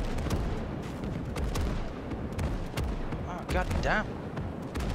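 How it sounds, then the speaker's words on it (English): Incoming artillery barrage in the Gates of Hell Soviet campaign, dense rumbling booms and gunfire crackling continuously under loud, excited talk and shouting. "Incoming artillery. Get out of the open."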